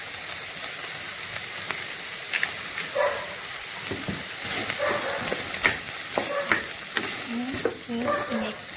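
Broccoli and prawns stir-fry in a hot pan: a steady sizzle runs throughout, with a utensil scraping and clinking as the food is tossed.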